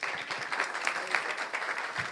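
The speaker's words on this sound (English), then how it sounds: "Stand and applaud." An audience at a women's wealth symposium applauds, with steady, dense clapping from many people throughout and occasional louder claps near the front.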